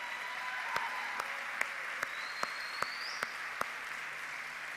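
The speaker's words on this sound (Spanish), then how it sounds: "Ahora sí da un aplauso al Señor" A church congregation applauds, a steady wash of clapping with sharp, evenly spaced beats every half second or so, held at a moderate level throughout.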